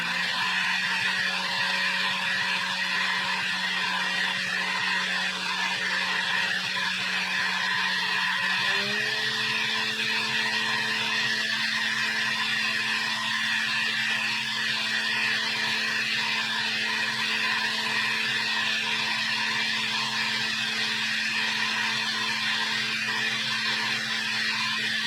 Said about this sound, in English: when you turn the flow bench on